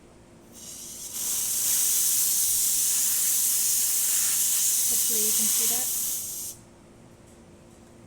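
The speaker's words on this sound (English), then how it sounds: "and I'll show you the steam" Steady loud hiss from the steam wand of a La Pavoni lever espresso machine, starting abruptly, holding for about five seconds and cutting off, with a person talking briefly underneath.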